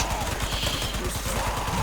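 Gunfire in a military video game battle, rapid crackling shots in a dense continuous volley, loud and unbroken, with a faint hum beneath.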